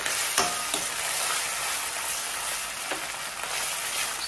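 Chicken lollipops fry in soy and tomato sauce over low heat, a continuous close sizzle broken by a few clinking scrapes as the pieces are stirred, with no talking.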